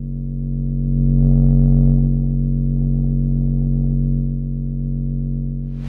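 A sustained sub bass synth note with overdrive distortion, a loud, steady low drone whose added upper harmonics swell in and then settle, heard alone with no voice.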